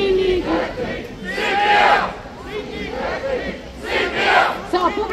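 Audience in a Düsseldorf bar chanting "Mini Glöggli" in loud, rhythmic group shouts that swell and fade in waves, with raised voices and crowd noise throughout.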